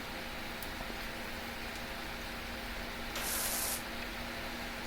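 A pressure washer sprays in the video game Powerwash Simulator, a steady, even rushing hiss that runs unbroken throughout and swells a little brighter for a moment near the end.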